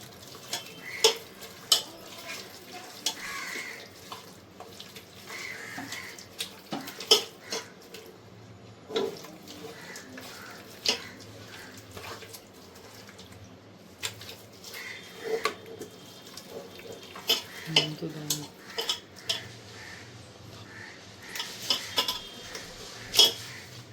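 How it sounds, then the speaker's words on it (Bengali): Raw prawns are worked by hand with mustard oil in a kitchen bowl, giving soft, irregular squelching and scattered light clicks against the dish, with no talking. "এবার এটাকে ভালো করে হাত দিয়ে ভালো করে মাখিয়ে নেব।"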